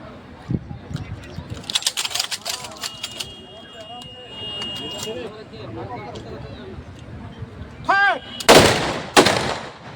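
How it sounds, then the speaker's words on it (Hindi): Police guard of honour firing guns into the air as a final salute at a funeral: sharp, loud cracks near the end, after scattered earlier reports amid voices and crowd noise. "पुलिस बल ने गार्ड ऑफ ऑनर देते हुए हवाई फायरिंग कर उन्हें अंतिम सलामी दी"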